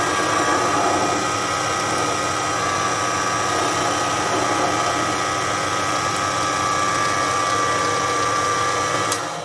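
A Proxxon PD 250/e lathe machining steel during facing and center drilling, a steady motor whine with a constant high-pitched tone, close and continuous, with a brief sharp click near the end.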